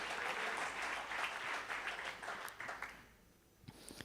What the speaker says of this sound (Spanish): Aplaudan la presencia del Señor en esta mañana, porque aquí está Él.